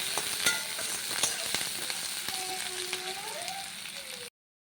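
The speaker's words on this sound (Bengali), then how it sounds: "এগুলো হালকা কত সুন্দর ভাজা হয়ে গেছে, হালকা হালকা ভাজা হয়েছে" Chopped ginger, onion, garlic and chili fry in a pan with a bright, continuous sizzle and sharp crackles, close and fairly loud, stopping abruptly at the end.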